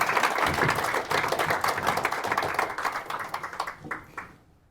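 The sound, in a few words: audience clapping applause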